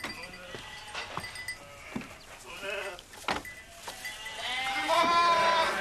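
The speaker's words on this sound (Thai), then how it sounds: "คนเลี้ยงก็นำแกะเข้าไปในโรงนาเพื่อให้มันอยู่ในที่แห้ง" A flock of sheep bleats near and far in repeated wavering calls while a shepherd leads them into a barn in the European countryside, with a low rumble beneath and the bleating growing denser toward the end.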